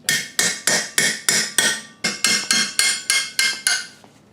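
A hammer strikes a 14mm rear sprocket bolt on a 2001 Kawasaki Ninja 250 about thirteen times at a steady, quick rhythm. Each blow is a sharp, loud metallic clang with a short ring, heard alone and close.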